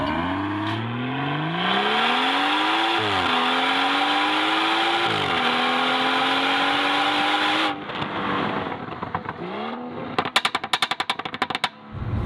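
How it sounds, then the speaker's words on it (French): A BMW 340i xDrive engine with stainless M Performance sport exhaust and open valves starts with a roar and settles into a loud, steady idle with rising pitch, then cuts out; sharp popping exhaust crackles follow. "la ligne d'échappement inox qui donne ce son si spectaculaire lorsque les clapets sont ouverts"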